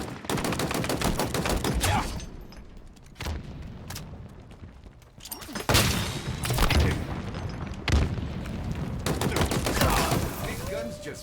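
Power weapons blaze in a video game battle: bursts of rapid gunfire and heavy booms come in loud clusters, separated by short lulls.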